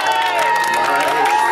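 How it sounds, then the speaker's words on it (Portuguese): Party crowd at a surprise birthday celebration in Jardim Fortaleza, Guarulhos, clapping and cheering with whoops and shouts, loud and continuous, with a steady tone and voices mixed throughout. "Uma salva de palmas, pessoal!"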